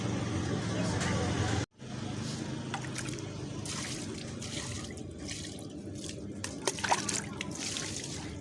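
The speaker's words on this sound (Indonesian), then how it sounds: "disiram-siram saja" Water is splashed and poured over a steam iron's stove while rinsing it, a steady gushing stream that cuts off abruptly, then resumes as a rushing flow with scattered splashes and drips; a voice speaks over part of it.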